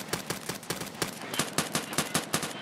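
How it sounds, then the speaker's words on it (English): Rapid automatic gunfire in Escape From Tarkov, a long string of evenly spaced shots at moderate distance, rattling steadily with brief pauses between bursts. "That's them shooting."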